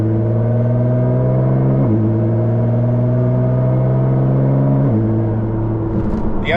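A Nissan GT-R accelerates hard along an empty backcountry road, a loud, steady engine drone that climbs in pitch, drops briefly at each gear change, and then climbs again.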